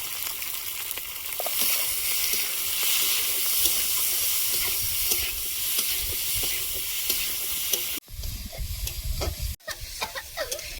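Leafy greens, a mix of field-picked and garden greens, frying and being stirred in a pan, a steady loud sizzle and hiss with scraping stir strokes throughout, briefly interrupted near the end.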